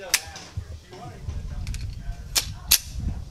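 A Walther PPQ Q5 Match 9mm pistol fires at clay targets outdoors: three sharp, loud shots, the last two close together, over quiet background noise.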